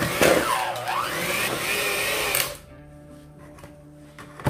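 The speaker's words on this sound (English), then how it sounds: "Just going to take our electric mixer." Electric hand mixer beating 24 ounces of cream cheese in a mixing bowl, a loud steady whir with wavering pitch for a couple of seconds, then dropping to a quieter steady hum.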